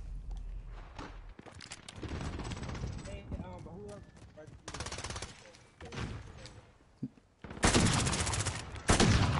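Call of Duty gunfire rattles in bursts of rapid automatic shots with single cracks between them, loud and close, ending in a dense sustained volley; a few quiet movement sounds fall in the gaps.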